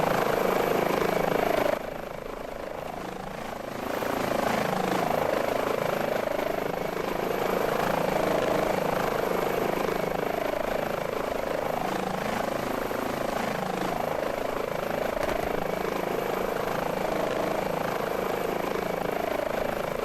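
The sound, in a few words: H145 helicopter rotor and engine, Microsoft Flight Simulator video game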